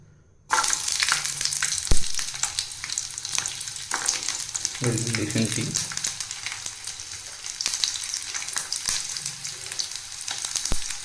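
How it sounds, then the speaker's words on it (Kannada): Garlic and ginger frying in oil in a kadai, a loud steady sizzle with crackling spatters, broken by occasional scraping stirs and one heavier clatter partway through; no voices. "ಫಸ್ಟು ಬೆಳ್ಳುಳ್ಳಿನ ಹಾಕ್ತಾಯಿದ್ದೀನಿ. ಬೆಳ್ಳುಳ್ಳಿ ಮತ್ತು ಶುಂಠಿ"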